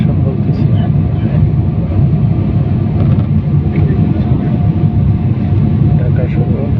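Inside the cabin of an airplane landing at Hazrat Shahjalal International Airport, Dhaka, a loud, steady low engine and air roar fills the whole stretch, with faint voices blended under the drone.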